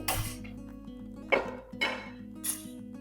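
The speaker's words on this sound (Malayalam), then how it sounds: "ഇനി നമ്മളിത് ഒരു പാന് വെച്ച് കൊടുക്കുന്നുണ്ട്" A pan set on the stove, a few distinct metallic clanks and clinks spaced over a few seconds against a faint steady hum, no talk.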